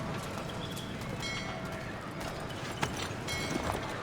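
Hooves clip-clop at a steady gallop as a horse is ridden through a colonial town in the Assassin's Creed 3 video game, moderately loud over light background ambience and a few sharp clicks.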